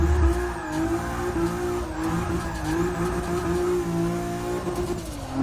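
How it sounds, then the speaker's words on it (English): A single-turbo 2JZ-engined SC300 in a video game screams near redline with a steady, loud, high engine tone and a tire squeal, while the blow-off valve hiss stays lost in the roar. No one speaks. "I love hearing that red line and that blow-off valve."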